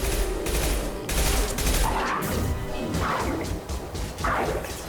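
Weapon fire in the video game Mass Effect 2, a dense, loud stream of cracking shots and impacts with heavy thuds, sustained throughout.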